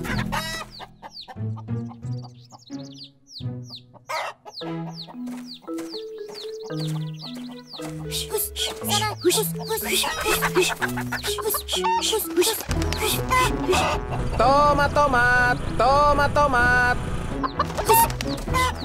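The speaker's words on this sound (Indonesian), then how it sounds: "ada ayam." Cartoon chickens cluck and a rooster crows, loud and repeated, over upbeat music in an animated show, with brief speech from a character.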